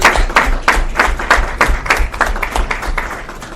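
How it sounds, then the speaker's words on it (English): Close, loud clapping at a father-son community school dinner, individual claps standing out in a quick uneven rhythm, joined by a smaller crowd's applause that continues steadily throughout. "So let's give a round of applause to all the fathers."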